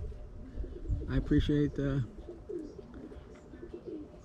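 Pigeons coo in soft, rounded, repeated calls at close range, with someone speaking quietly over them for part of the time.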